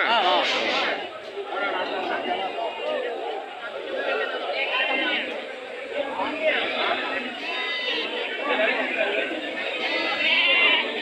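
Ram lambs bleat at a big sheep market in Akki Rampura, Karnataka. The bleats are buried in dense, continuous crowd chatter throughout.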